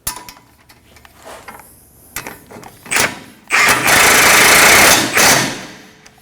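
Metallic ratcheting and clicking as a nut is run down onto the tie rod at a 2011-2016 Kia Optima steering knuckle, scattered taps first, then a loud, dense burst of rapid ratchet clicks up close.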